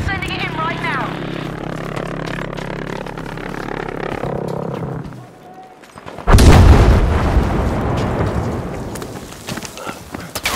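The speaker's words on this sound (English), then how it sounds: "Requesting a JB-2 airstrike right away!" JB-2 airstrike in Battlefield 5 multiplayer conquest: a droning, whining engine and battle noise that fades to a lull, then a loud, heavy explosive blast and rumbling aftermath, with game voices shouting over it.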